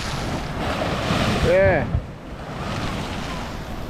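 Sea waves wash in at a beach at high tide, a continuous broad rush mixed with wind buffeting the microphone, while a voice briefly speaks in the middle.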